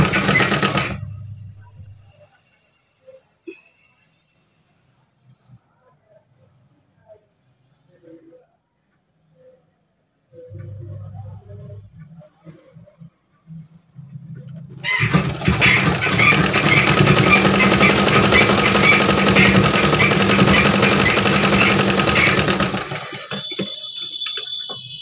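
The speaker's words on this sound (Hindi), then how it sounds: "अच्छी तरीके से बराबर करते हुए हम सिलाई करेंगे" A sewing machine stitches bedsheet pieces together for hand-worked bed-cover designs, a dense, steady whirring run that starts loud and holds for several seconds before stopping. Quiet handling and a brief voice come before it.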